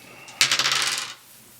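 Two dice for the Fallout Shelter board game hit a table and clatter briefly, a sharp close rattle of small bounces that fades within about a second.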